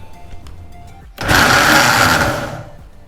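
A blender whirs up suddenly and runs at a steady high whine for about a second and a half, blending saffron with fresh milk. The motor sound then cuts off, and quieter handling noises are heard before and after.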